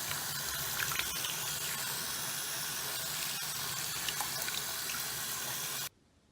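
Water runs steadily from a tap for washing a hair topper, a continuous close hiss that stops abruptly near the end, with no talking.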